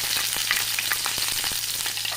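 Ginger, garlic and green chili frying in hot oil after mustard seeds for an egg curry, a steady close sizzle with small crackling pops and occasional stirring, no voices.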